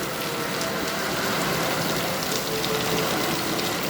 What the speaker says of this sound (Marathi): सध्याला पाऊस जोरात पडत आहे आपण बघू शकता पाऊस कसे आहे